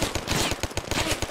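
Rapid automatic gunfire in a WWII video game battle at Pegasus Bridge, a fast, even rhythm of about a dozen loud, close shots in quick succession.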